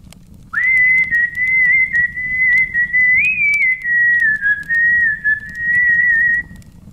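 A person whistles one long, steady high note that wavers slightly in pitch, close and clear, with brief pauses between breaths.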